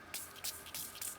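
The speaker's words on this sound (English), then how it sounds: "I'm going to spray mine. Spray the whole thing" A spray bottle spritzes water over paper during a watercolor craft with washable markers: four quick, soft hissing bursts in steady succession, close and quiet, with no talking.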